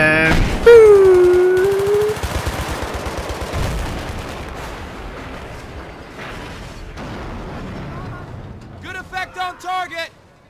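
Sustained gunfire in Battlefield 3, loud and dense at first and then fading into a lingering rumble, with a brief sharp shout near the start and voices breaking through toward the end.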